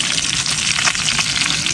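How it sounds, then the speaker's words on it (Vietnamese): Fish fries in a hot pan of oil with a loud, continuous crackling sizzle and dense popping close by, running unbroken throughout. "Mình sẽ chiên cá này ha."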